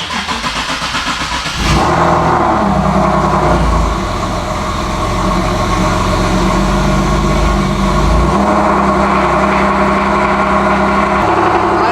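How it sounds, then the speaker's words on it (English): Loud car engine cranking, catching and then revving and idling roughly nearby, a deep throaty rumble that rises and settles over several seconds, with no voices. "love the sound of this car, but I know my neighbors hate it."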